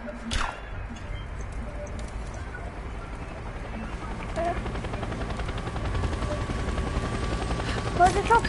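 Helicopter in a shooter video game, a steady rotor thrum running throughout and growing slightly louder, with gunfire and voices talking over it.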